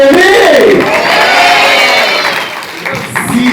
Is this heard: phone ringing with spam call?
no